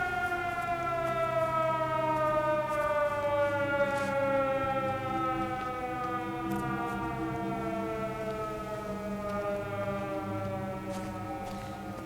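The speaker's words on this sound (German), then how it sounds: "Diese Sirene, die, ich weiß gar nicht, Frank hatte die erwähnt, ne?" A civil defense siren wails in the video game Everybody's Gone to the Rapture, a loud sustained tone slowly falling in pitch over many seconds with no voices.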